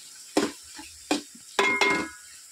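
Onions and tomatoes for a chicken curry frying in a pan, with several sharp close scrapes and clanks of a spoon against the pan over a soft background sizzle.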